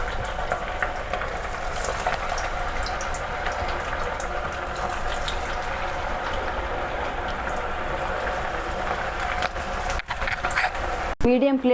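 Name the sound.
Maddur vada frying in hot oil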